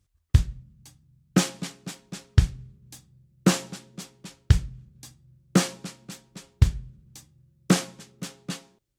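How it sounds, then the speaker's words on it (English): A drum kit plays a groove alone: kick drum landing on the one, steady eighth-note hi-hat and soft snare ghost notes, with loud hits repeating roughly every second in a clean, close, repeating pattern. "We're going to play that under kind of a bass drum part, maybe just kick on the 1, 8th notes on the hi-hat."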